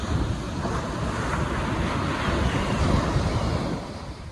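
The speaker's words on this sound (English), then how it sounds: "Or the ocean waves and the birds" Ocean waves wash onto a Newfoundland shore in the early morning in a steady, full surf roar, with wind buffeting the microphone, and ease off slightly at the end.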